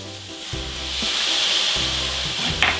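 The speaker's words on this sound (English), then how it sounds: "we're gonna dump our 2 tablespoons of our soy sauce" Steady, loud sizzling and frying as soy sauce hits a hot pan of milkfish sisig, a constant hiss with a few soft stirring bumps throughout.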